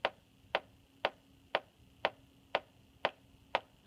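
A synthesized kick drum from Rytmik Retrobits plays eight short, clicky, evenly spaced hits in a steady pulse, fairly quiet and alone.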